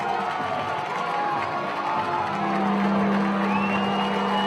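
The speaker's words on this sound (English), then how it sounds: "this Abshire crowd trying to get loud" Crowd at a high school football game between Deer Park and Dobie, roaring steadily through a tense fourth-down play, a dense continuous wash of cheering and shouting with a rising whistle-like tone near the end.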